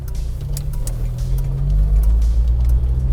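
A 1995 Jeep Wrangler YJ rolling down a gravel road, heard from inside as a loud, steady low engine and road rumble with faint crunching ticks above it, building slightly toward the end, with no talk.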